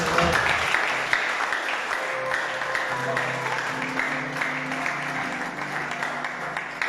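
A congregation claps together at a worship service, a steady wash of applause lasting the whole stretch with faint sustained musical tones underneath.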